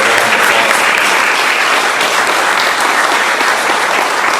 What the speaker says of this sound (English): So I just think you deserve a round of applause.